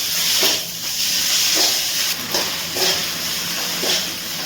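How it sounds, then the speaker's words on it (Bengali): Broccoli masala stir-fried in a pan with kasuri methi and salt, giving a steady broadband sizzling hiss with soft periodic bursts as the mixture is stirred, close and fairly loud with no talking. "খুব ভালো করে মিশিয়ে আবার একটু কষিয়ে নিচ্ছি।"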